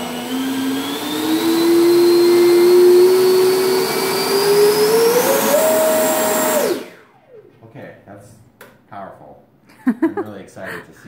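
Electric ducted fan of a Horizon Hobby Viper 70mm RC jet on a throttle test: a loud whine rises in pitch in steps for about seven seconds, then cuts off, leaving quieter talk and handling noise.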